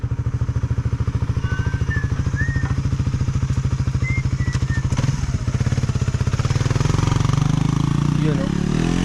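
A motorcycle engine idles nearby with a steady rapid putter that grows slightly louder toward the end, with faint voices beneath it.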